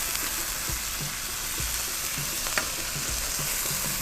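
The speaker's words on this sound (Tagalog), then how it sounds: "Kailangan magisang mabuti ito sa ginger." Pork kidney and pancreas sautéing with ginger in a hot pan, a dense, steady sizzle and crackle with occasional stirring scrapes and clunks, close and continuous with no talk.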